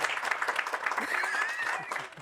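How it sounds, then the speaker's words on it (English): Brief applause for panel members at a recruiting and retention session, a short burst of many hands clapping together in a room, steady and moderately loud before fading. "a quick round of applause for our panel members"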